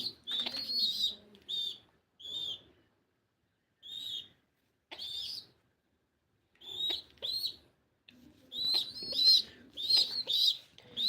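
Racing pigeons cooing and calling in short bursts, with wing flutters and soft rustling between them, fairly close with brief quiet gaps.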